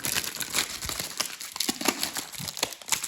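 Parchment paper crinkles and crackles steadily as it is handled close by, with small uneven rustling bursts throughout and no voices.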